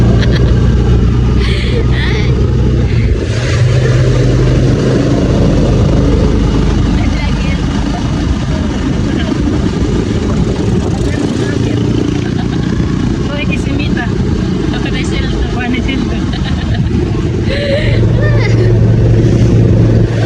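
A motorized tricycle carries passengers toward a pumpboat landing, its engine droning loudly and steadily throughout the ride, with road rumble and faint voices mixed into the noise.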